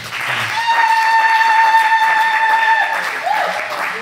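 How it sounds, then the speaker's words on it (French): A church congregation at a wedding service claps together, a dense wash of applause heard under a sustained tone and some voices. "Applaudissons pour le Seigneur."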